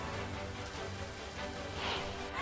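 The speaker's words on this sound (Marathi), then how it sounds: "रत्नागिरीच्या दापोलीमध्ये मुसळधार पावसाने हजेरी लावली।" Heavy monsoon rain pours steadily over Dapoli in Ratnagiri, a dense, even broadband wash that stays loud and unbroken throughout with no voices.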